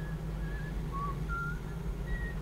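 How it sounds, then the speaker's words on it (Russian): A character in the video game Dishonored whistles a tune from the game's music, a few short clear whistled notes with gaps between them over a low game ambience. "Слышите, парень напевает, насвистывает музыку из игры, из этой."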